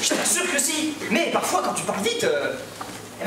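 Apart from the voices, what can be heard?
None of the usual background noises is heard.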